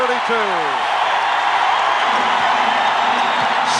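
Home crowd in a packed North Carolina college basketball arena during a 1982 game against Virginia, a loud sustained roar of cheering with a few sneaker squeaks early on.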